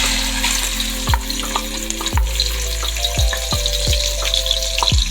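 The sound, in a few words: onions added to hot oil frying in a large pot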